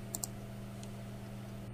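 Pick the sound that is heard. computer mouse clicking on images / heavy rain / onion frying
computer mouse clicking on images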